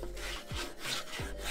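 Body filler on a vehicle's cab corners and rockers being sanded with 80-grit sandpaper, heard as close, rhythmic abrasive strokes repeating about every half second or so.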